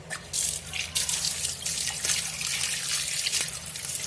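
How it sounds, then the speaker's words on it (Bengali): Tap water runs over a ripe, freshly cut mango as it is washed, a continuous splashing hiss with a few brief drips and knocks, close and steady throughout. "চলো একটু ধুয়ে নিই, আমটা ধোয়া হয়নি"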